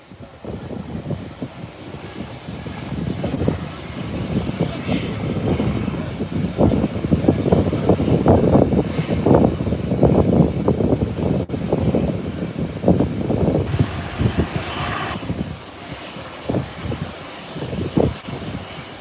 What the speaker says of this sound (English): The Airbus 321.